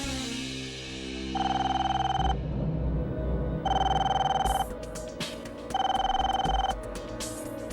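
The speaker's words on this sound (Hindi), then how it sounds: "फोन उठाओ" A telephone rings in three long electronic bursts separated by short gaps, heard fairly close over low background noise.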